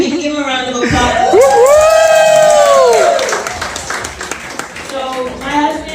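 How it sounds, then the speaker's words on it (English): Audience at a brunch event cheering and applauding for the host's husband as he is called up. Whoops and voices rise over scattered clapping, with people talking through it. "We can give him a round of applause."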